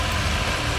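A tractor engine in the off-road game Mudrunner rumbles in a brief, loud, steady low drone with no voices over it.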